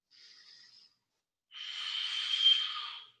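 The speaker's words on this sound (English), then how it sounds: "Take 3 full Ujjayi breaths here." Ujjayi breathing during an advanced yoga practice, heard as two close, hissing breaths: a short inhale followed by a longer, louder, throaty exhale after a pause.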